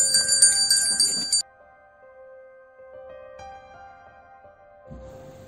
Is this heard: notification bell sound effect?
yes